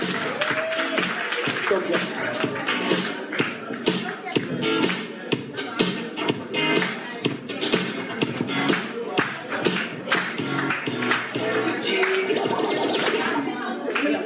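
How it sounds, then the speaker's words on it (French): Applause and clapping from a comedy club audience in Cotonou as a Congolese comedian named Amour is welcomed, dense and sustained hand claps with crowd shuffling throughout. "Applaudissez pour Amour, s'il vous plaît."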